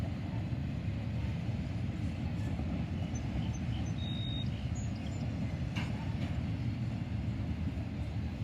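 A train passing on railway tracks at Oak Harbor, a steady low rumble that holds even and unbroken throughout, with a few faint high squeaks over it.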